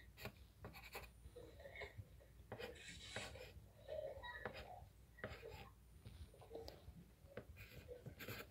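A pen scratches words onto paper in short, close, quiet strokes with brief pauses between them, faint and intimate against a hushed room.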